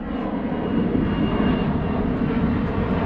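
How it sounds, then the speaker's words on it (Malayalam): A loud, steady aircraft engine roar, close and sustained throughout, as an Air India Express passenger jet passes low overhead near Sharjah Airport. "നല്ല ഒച്ചയുണ്ട് കേട്ടോ അടുത്താണ് പോകുന്നത് അത് പോകുന്നത് എയർ ഇന്ത്യ എക്സ്പ്രസ് ആണ്"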